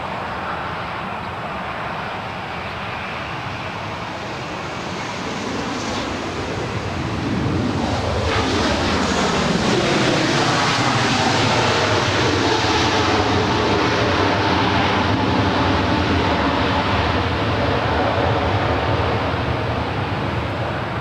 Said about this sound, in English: Looks like the Lufthansa A340, unfortunately, going to the south.